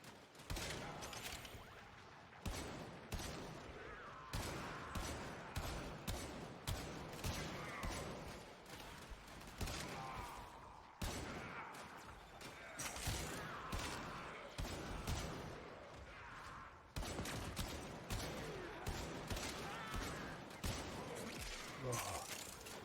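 The Kuva Hind rifle firing in Warframe: repeated rapid bursts of loud sharp gunshots in a steady rhythm across the whole stretch, with short pauses between volleys and a voice talking underneath.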